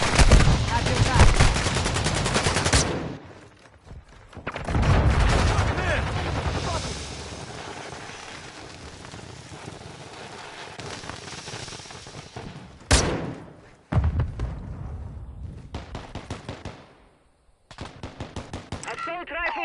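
Gunfire from Modern Warfare 2 in bursts of rapid, loud automatic shots, with quieter gaps between exchanges and voices calling out between them.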